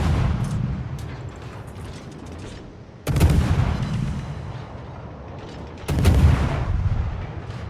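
Naval gunfire from a warship video game, with heavy booming salvos at about 3 and 6 seconds that roll into long rumbling tails over a constant low engine and sea drone.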